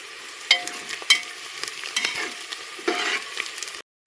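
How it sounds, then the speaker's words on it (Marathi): Onion frying with cumin in a pan, heard as a steady close sizzle broken by a few sharp spatula clinks and scrapes, ending in abrupt silence, with no voices. "कांदा थोडासा ब्राऊन होतपर्यंत परतून घेणार आहे चांगला."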